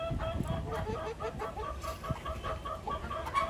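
A small flock of American game chickens with one rooster clucks continuously at close range, a steady mix of soft and sharper calls with no talk over them.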